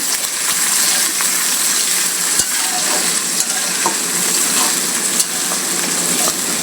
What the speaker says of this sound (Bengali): শুধু কাঁচামরিচ আর পেঁয়াজ আমি এই যে ভেজে নিচ্ছি